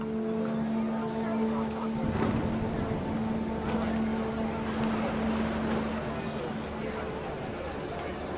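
Steady rain pours down hard in the game What Remains of Edith Finch, a constant wash of falling water beneath a low sustained hum, with an occasional louder splash or gust standing out.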